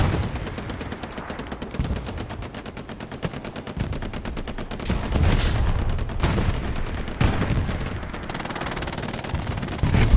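Dense gunfire and rocket explosions in the World War II shooter game Hell Let Loose during a competitive match, loud overlapping bursts of automatic fire with heavy booms rising and falling throughout.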